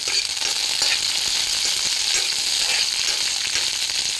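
Green chillies sizzle steadily in hot oil in a pan, a loud, close, continuous crackling fry with faint stirring and no voices.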